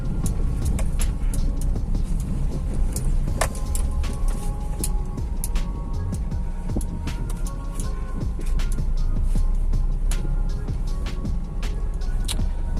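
A 2015 Maruti Suzuki Swift Dzire diesel car drives along the road, its engine and road noise a steady, loud cabin rumble with occasional bumps and clicks, no talking.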